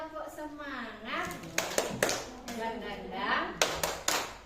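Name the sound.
group doing the tepuk semangat clapping routine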